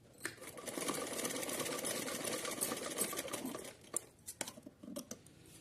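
Close, steady whir of a sewing machine stitching a small summer dress for a Laddu Gopal idol, running for about four seconds before stopping, followed by a few light clicks and taps.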